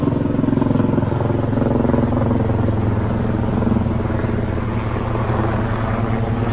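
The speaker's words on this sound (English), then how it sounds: "Yeah, it's a helicopter." A helicopter passes overhead outdoors, its rotor giving a steady, loud, rhythmic low thumping with broadband engine roar that holds nearly constant throughout and barely fades toward the end.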